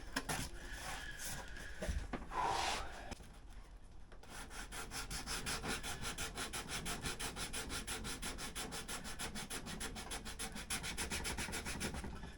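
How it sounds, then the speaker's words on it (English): Scooter or motorcycle plastic is sanded by hand, giving a continuous close rasping rub made of rapid back-and-forth strokes, with a short pause partway through before the steady scraping resumes. "You just sand until nothing's higher than anything else."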